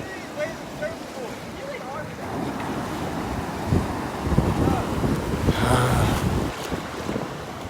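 Ocean surf washing onto Pawleys Island beach on a morning, a steady broadband roar of breaking waves with heavy wind buffeting the microphone, swelling louder toward the end.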